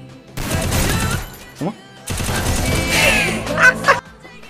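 Gunshots from a mobile shooter video game come in two dense bursts of rapid fire separated by a short gap, with sharp shot transients and a brief louder crack near the end, standing out clearly in the mix.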